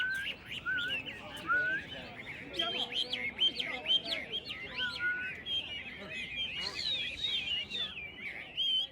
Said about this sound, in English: These birds are Wamei.